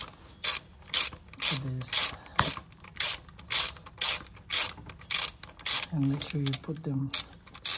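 A ratchet clicks in short repeated bursts while tightening the power steering line bolts on a 2006 Honda Pilot 3.5L V6, with someone talking between the strokes.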